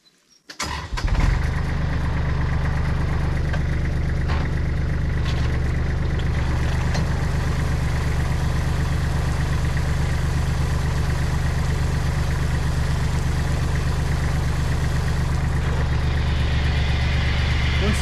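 A tractor engine cranks and fires, then settles into a loud, steady diesel idle in an olive grove, rumbling continuously with a voice talking briefly over it.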